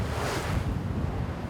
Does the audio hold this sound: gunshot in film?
no